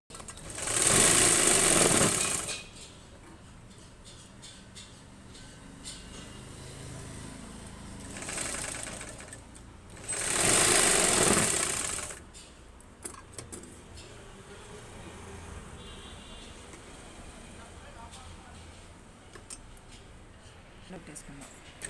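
A sewing machine stitches the shoulder seams of a plain blouse in three short, loud bursts of rapid whirring, with quiet gaps between them where someone talks.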